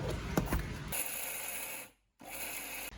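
A mixer grinder grinding peanuts whirs loudly and steadily, stops briefly with a moment of silence, then starts grinding again, with a few clattering knocks at the beginning.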